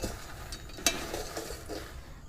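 Peanuts tossed and fried with salt over high heat in a pan: a continuous dry rattling scrape with a sharp clack near the start, close and steady, no talking.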